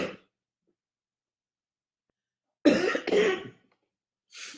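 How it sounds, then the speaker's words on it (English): Two harsh coughs close together after a pause, with a short breathy sound at the start and a faint rasp at the end. "I'm coughing"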